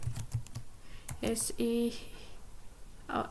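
Keystrokes on a computer keyboard as a PowerShell command is typed, with scattered, irregular clicks and taps at close range and some faint vocal sound mixed in.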